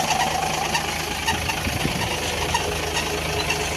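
A heavy goods truck idles close by near its exhaust pipe in cold weather, a steady low rumbling engine drone with faint knocking and no pauses.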